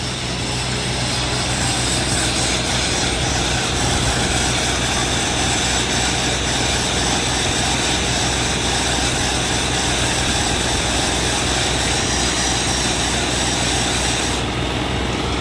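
A tractor-powered mustard seed packing machine with a drive belt and chain runs nonstop, a loud, steady engine drone with a rumbling low end that holds constant throughout, with no speech.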